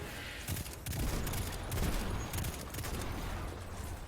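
Pulse rifle fire in the shooter game Destiny 2, rapid bursts of shots repeating in quick clusters alongside other gunfire, fairly close and dense throughout.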